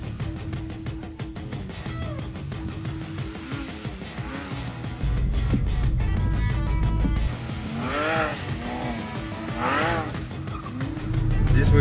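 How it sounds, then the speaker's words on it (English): A brand new 2018 Porsche GT3 sports car driving hard on a race track, its engine roaring steadily with rising revs and tire squeal, loud and continuous throughout. "this is a brand new Porsche GT3, so excited to try it and see what I can do"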